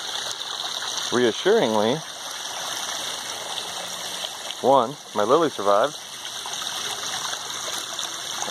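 A backyard stream on a rainy day gives a steady, close rushing and gurgling of flowing water throughout, while someone speaks briefly in two short stretches over it.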